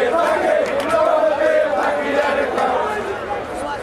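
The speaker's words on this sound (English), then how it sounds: "with racist chanting from a section of the crowd" A football hooligan crowd chants in unison, a loud, dense mass of voices holding a rhythmic, sustained chant that rises and falls slightly over a few seconds.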